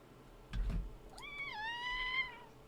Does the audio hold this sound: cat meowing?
yes